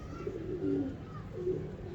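A pigeon coos softly in two low, rolling phrases, heard close and alone over a faint background hum.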